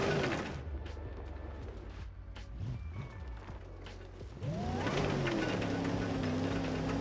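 Simulated RAM TRX pickup engine at full throttle on sand dunes, a steady mechanical drone with rising harmonic tones that swell louder and climb in pitch over the last couple of seconds, mixed with clunks and creaks.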